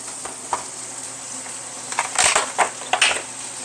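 Eggs frying in butter in a nonstick pan, a soft steady sizzle under a few brief clatters of utensils and cookware stirring nearby; no talking.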